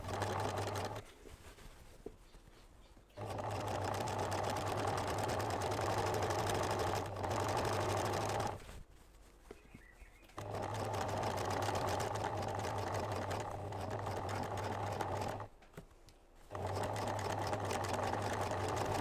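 Sewing machine stitching a reversible fabric drawstring bag made from fat quarters, a steady close motor whir with a fast needle rhythm running in three long stretches separated by short pauses, with no talking.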